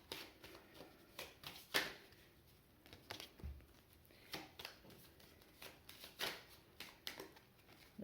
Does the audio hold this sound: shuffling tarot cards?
yes